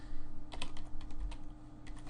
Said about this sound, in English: My typing is awful on this computer.